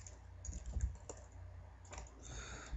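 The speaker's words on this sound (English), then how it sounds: "We can just type in" A computer keyboard being typed on at a desk while entering a command: soft, faint, irregular key clicks in small clusters over a low background hum, with no speech.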